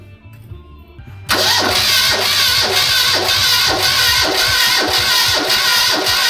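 An old vehicle engine, started without choke or throttle, cranks in a rhythmic churning loop after a quiet lead-in, loud and close, never quite settling into a smooth idle.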